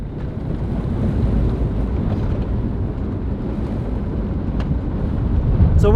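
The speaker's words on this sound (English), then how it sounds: "But the wind just picked up like crazy." Strong desert wind in Utah buffets the microphone as a steady, loud low roar that rises slightly toward the end, with no speech.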